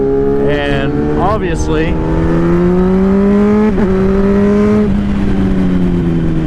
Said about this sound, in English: And I have Akrapovic exhaust with a TOS quad tailpipe muffler,